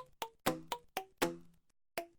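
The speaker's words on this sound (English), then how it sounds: "Which I think sounds really cool considering it came from a Coke bottle." Pitch-shifted hits on a Coke bottle, panned into stereo, forming a rhythmic run of about eight sharp, ringing, pitched strikes of varying pitch with short decays and brief gaps, heard alone.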